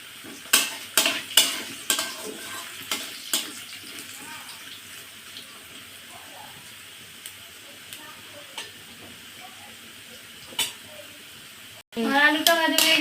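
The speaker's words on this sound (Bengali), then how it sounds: "আমার আলুগুলো বেশ ভাজা হয়ে যাচ্ছে," Potatoes frying in a pan over a gas flame: a quick run of utensil clinks and stirring scrapes over a faint sizzle, quieter scattered taps afterwards, then a voice speaking briefly at the end.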